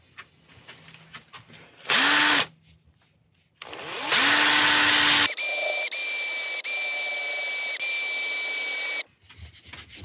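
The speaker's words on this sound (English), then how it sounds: "Back out with my drill, just sand down that little nib" A power drill whirs as it sands a red oak turned bowl, with a brief burst, then a long steady high-pitched grinding run before stopping.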